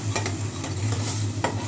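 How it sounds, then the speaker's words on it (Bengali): Poppy seed paste stir-fried in a pan while an egg dhoka is being made, a steady close sizzle with repeated scraping strokes of the spatula and no talk. "এবার পোস্তটাও এটার সাথে ভালো করে কষিয়ে নেব।"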